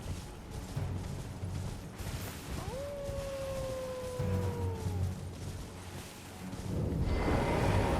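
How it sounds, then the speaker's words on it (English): A single drawn-out enemy howl from up high in Elden Ring, a rising wail that holds and slowly falls over a few seconds, clear above low ambient rumble and wind. "That guy's howling up top"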